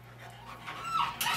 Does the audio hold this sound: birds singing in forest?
no